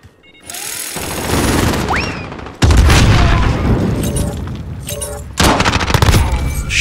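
Rocket launcher blasts in the Modern Warfare video game, with several loud, close booming explosions in quick succession and a rumbling roar between them. A player's voice comes through faintly underneath.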